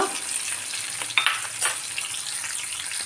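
Green chilies sizzle steadily in hot oil for a Tamil nethili karuvadu kuzhambu (dried anchovy curry), a close continuous frying hiss with a couple of brief sharper crackles and no voices.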